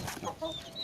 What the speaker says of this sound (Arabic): هذا هو الديك ولله الحمد ولله الحمد